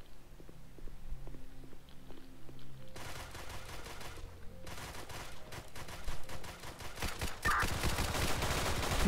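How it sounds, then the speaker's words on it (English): Rapid gunfire from gang violence in a video game crackles in a run of sharp bursts, quiet at first and then dense and repeated through the second half, with no talk. "All we hear is gunshots."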